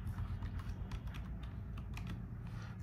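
Rapid, steady clicking of a computer keyboard as a code is typed into a software search field, close and continuous over a low background hum, with no talking.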